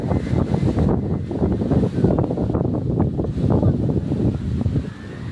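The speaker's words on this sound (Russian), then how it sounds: "Ветер небольшой." Steady wind gusts buffet the microphone with a low rumble that rises and falls continuously outdoors among trees after a storm that brought down many branches.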